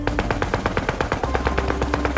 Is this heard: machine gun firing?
yes